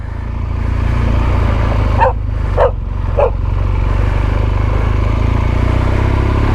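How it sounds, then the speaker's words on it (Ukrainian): A dog barks three times in quick succession, a little distant, over a steady low motorcycle engine drone that continues throughout, at a wild campsite in Sardinia. "собака"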